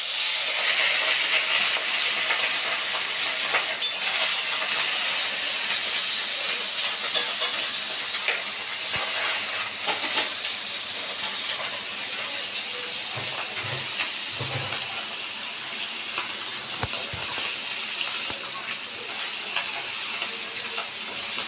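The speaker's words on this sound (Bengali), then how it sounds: "আমার ভাজা হচ্ছে, আমি কীভাবে ভাজি দেখো।" Small Puntius fish fry in hot oil in a home kitchen, giving a loud, steady sizzle and hiss that runs unbroken throughout, with occasional faint pops and no speech.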